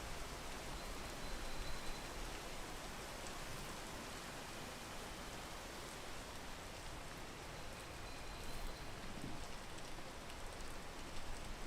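Steady, dense rainfall in a tropical rainforest setting of the video game Peak, a constant soft hiss of drops on surfaces that stays even and continuous throughout with no voices.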